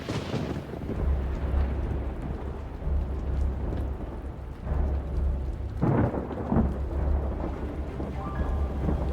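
Steady rain falls while low thunder rolls and rumbles repeatedly, with a sharper crack partway through.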